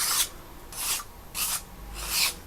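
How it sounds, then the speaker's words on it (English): A card edge being sanded by hand: four short rasping strokes in a steady back-and-forth rhythm, close and fairly soft, with no talking. "I'm gonna give it a sand, as you know I always do."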